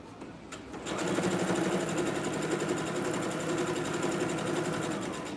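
A sewing machine stitches a quarter-inch seam. After a brief quieter start it settles into a steady, fast, close whir that runs to the end, with no voices.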